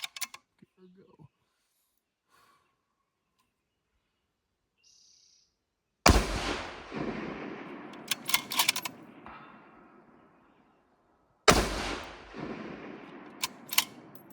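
Two loud, sharp rifle shots fired from a Gunwerks Elevate 2.0 or MDT Ckye-Pod lightweight bipod, each a sudden blast followed by a long rumbling echo, spaced several seconds apart with quiet before them.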